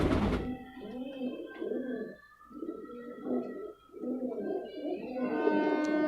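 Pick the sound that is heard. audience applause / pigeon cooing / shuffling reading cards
pigeon cooing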